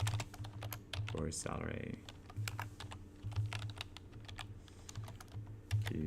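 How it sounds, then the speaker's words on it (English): Rapid, irregular keystrokes on a computer keyboard as questions are typed into a live chat, steady clicking throughout under a low background hum, with brief speech partway through. "I'm going to type in questions"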